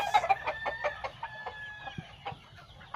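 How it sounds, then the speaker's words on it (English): Chickens, hens and roosters in farm pens cluck in quick, uneven bursts, with a rooster crowing through it. The birds are fairly close and the background is otherwise quiet. "most of the chickens and most of the hens and most of the roosters and most of the biddies are most likely"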